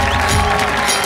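A studio audience at a Marathi comedy show applauds loudly and steadily, a dense wash of clapping and crowd noise that fills the whole moment.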